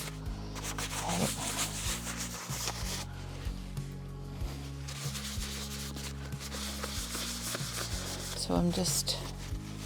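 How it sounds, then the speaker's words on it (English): An IOD paint inlay transfer rubbed down onto a surface by hand, a continuous close scratchy rubbing with repeated back-and-forth strokes, while a person talks briefly over it. "kind of rubbing it in a little on the edge and in towards the center"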